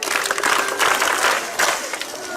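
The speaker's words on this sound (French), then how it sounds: "On applaudit pour elle." Schoolchildren applaud together in a short burst of crowd clapping, a dense, fairly loud patter of many hands that swells twice over a couple of seconds, with voices faintly mixed in.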